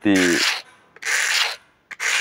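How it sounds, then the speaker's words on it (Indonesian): Hand sanding with sandpaper under even pressure while flattening a batik stamp (cap) in a workshop: three long rasping strokes, loud and close, separated by short pauses, no talk. "Kita amplas dengan tekanan yang rata kekuatannya"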